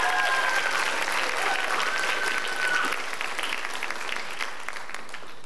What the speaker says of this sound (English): can we just give them one more encouraging round of applause?